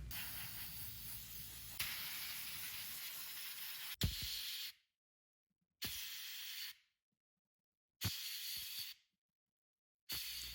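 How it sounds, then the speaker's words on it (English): An air compressor nozzle blows off the bottom case of a Crystal Xbox in a garage: loud sustained hissing bursts, a long opening blast then short spurts separated by silence. "we'll take the bottom case down to the garage and hose it off with the air compressor"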